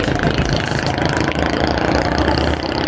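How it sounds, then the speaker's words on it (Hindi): Busy street traffic on Bandar Road in a crowded market area, with engines idling and revving, a motorcycle among the cars, and a steady loud clatter of vehicles close by. "ट्रैफिक जबरदस्ती का शोर किया हुआ।"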